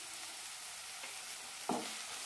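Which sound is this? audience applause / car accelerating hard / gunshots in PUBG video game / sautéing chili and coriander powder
sautéing chili and coriander powder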